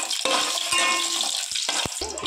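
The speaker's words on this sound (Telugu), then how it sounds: "3 ఇలాచి, దాల్చిన చెక్క, 3 లవంగాలు, అనాస పువ్వు వేసుకొని వేయించుకుందాం." Whole cardamom, cinnamon, cloves and star anise frying in a pot for bagara rice give a steady bright hiss, broken by a few sharp clicks and scrapes as the spices are stirred.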